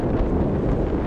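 Steady, loud wind rush buffets the microphone of a road bike cruising fast at about 37 km/h with a tailwind, a continuous low roar with no voices over it.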